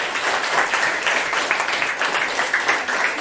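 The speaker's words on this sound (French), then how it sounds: "Donc des applaudissements encore." A crowd applauds steadily for a few seconds, dense clapping at moderate volume with no voices.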